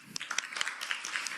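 Audience applause at a Korean economic forum panel session, a brief burst of scattered claps from a hall crowd, moderately loud, with a faint voice underneath.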